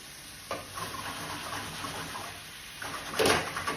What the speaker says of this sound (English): Shaking these around so that all the potatoes can gain some oil on them.